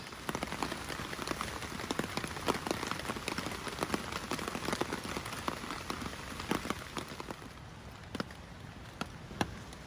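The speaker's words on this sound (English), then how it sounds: "It's still raining, and it's going to be raining the rest of the day." Rain falls on a hammock camp while backpacking in Linville Gorge, a constant pattering of drops with sharper individual taps striking close by on taut fabric, steady and fairly quiet throughout.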